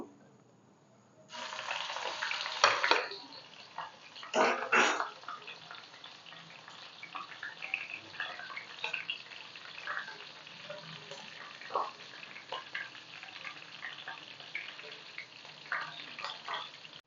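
Green chillies drop into hot oil for potato chivda, setting off sharp crackling bursts of sizzling that ease into a steady, fainter frying hiss with scattered pops.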